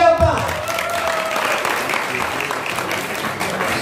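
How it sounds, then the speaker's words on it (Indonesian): Veterans' day gathering audience in Indonesia claps together, moderate sustained applause following a brief voice at the start and continuing evenly. "Boleh tepuk tangan?"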